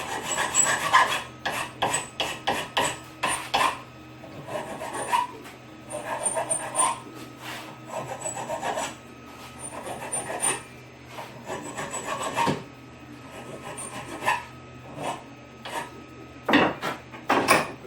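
Hand filing on a workpiece in a home workshop: a close, steady series of short rasping strokes in quick bursts with brief pauses, and no talking.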